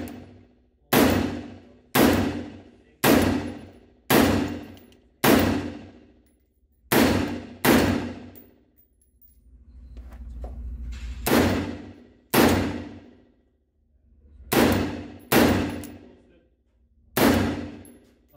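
Single rifle shots crack at an outdoor shooting range, about a dozen sharp reports spaced roughly a second apart, with a short pause and a low rumble midway before firing resumes.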